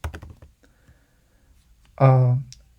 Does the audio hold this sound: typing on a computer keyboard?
yes